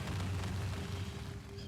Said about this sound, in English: makes little explosions.